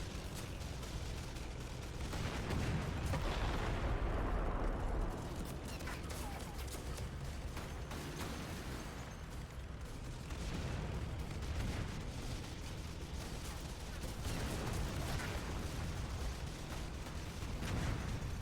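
Tanks assault a base in the VR strategy game Final Assault, with continuous rumbling explosions and rapid fire that stay dense and loud throughout, swelling in repeated waves with no clear pauses.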